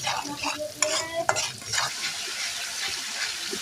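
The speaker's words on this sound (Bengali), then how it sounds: "আমরা ভালো করে মশলাটা কষিয়ে নেব" Spice masala being stirred and fried in a pan for fried fish roe, a steady close sizzle with scraping stirring strokes and a few sharp clinks.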